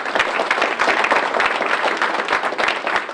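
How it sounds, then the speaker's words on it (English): An audience claps for the moderator of the 2017 American Fork city council and mayoral primaries debate, a steady, dense round of applause throughout with no talk over it. "Let's give him a round of applause."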